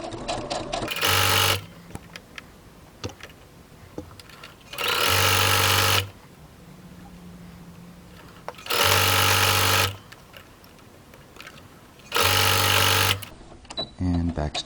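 Four loud, evenly spaced bursts of a sewing machine stitching bias tape onto a homemade fabric mask, each about a second long, separated by quieter pauses with faint handling sounds.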